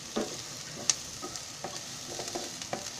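Finely chopped green chillies fry with onions in a pan for spicy okra, a soft sizzle under repeated light scrapes and clinks of a spoon stirring, with no talking.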